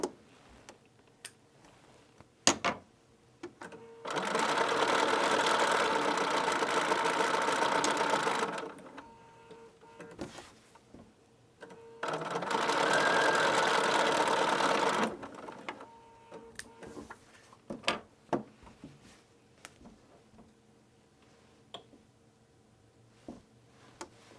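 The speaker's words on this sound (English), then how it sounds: "we'll sew 2 long rows together, and you can see that process" A home sewing machine stitching long rows of a scrappy chevron quilt runs in two steady, loud whirring stretches of several seconds each, separated by quiet pauses with small clicks and handling noises.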